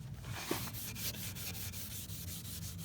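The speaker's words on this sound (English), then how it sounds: "We are literally sanding off a layer." Rhythmic scratchy rubbing of sandpaper across a truck wheel, sanding off a layer of paint, repeated back-and-forth strokes close up, with no talking.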